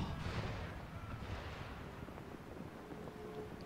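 A cannon fires in the Empire Total War game during a naval battle, a single booming blast at the start that decays into a rumbling wash of wind and low noise, with no talk.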